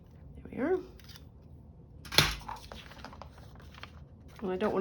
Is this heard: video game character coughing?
no